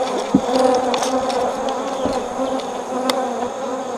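Honeybees buzz loudly and close around a winter hive inspection, a continuous dense drone with individual insects swelling past the microphone, and no talking.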